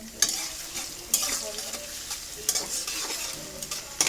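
Onions frying in oil in a pot for a bottle gourd and pangas fish curry, a soft steady sizzle punctuated by a few sharp metallic clanks of a spoon stirring against the pot.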